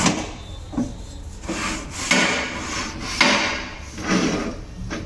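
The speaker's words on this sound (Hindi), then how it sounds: "हैमरचिक प्लेट से हम इसे टाइट करेंगे।" A long metal pipe is clamped and tightened in the hammer chuck of a pipe threading machine, producing a series of close scraping, rubbing and knocking sounds in irregular bursts, without speech.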